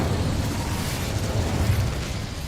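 A fire spell in Hogwarts Legacy erupts into a sustained roaring burst of flame, dense and loud throughout with a low rumbling body, no speech over it.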